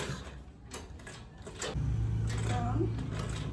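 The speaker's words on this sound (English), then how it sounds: "Start sewing from the down." A sewing machine starts up partway through and runs in a steady close hum while stitching Ankara fabric for a bag, after a stretch of quieter handling noises.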